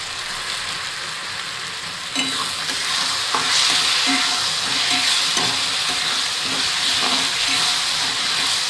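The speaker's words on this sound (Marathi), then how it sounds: "त्याला चांगलं एक 7-8 सेकंद चांगलं परतून घ्यायचं" Green and red chilies are sautéed with dark soy sauce in a hot pan for Veg Manchurian, giving a loud, steady sizzle and hiss with rhythmic stirring scrapes throughout and no speech.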